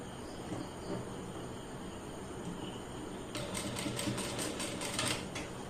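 A sewing machine stitches along the folded edge of fabric piping, starting partway through as a rapid, close mechanical chatter over a faint background hum and hiss.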